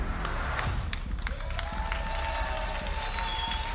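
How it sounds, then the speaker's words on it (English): An esports arena crowd at a League of Legends EU LCS match between Ninjas in Pyjamas and Mysterious Monkeys cheers and applauds in a steady, continuous roar, with no voices speaking over it. "Some excitement coming in from the crowd."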